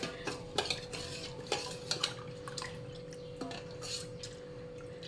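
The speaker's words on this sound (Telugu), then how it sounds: "ఈ 3 కప్పులు పిండి, గోధుమ పిండి, వరిపిండి, బొంబాయి రవ్వని ఒక దాంట్లో కలుపుకొని నానబెట్టుకుని ఉంచుకోవాలి." A spoon stirs rava dosa batter of semolina, wheat flour and rice flour in a bowl, making soft scraping and a few light knocks of utensil on the dish against a steady background hum.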